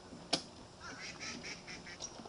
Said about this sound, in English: Oh, there's ducks in the way.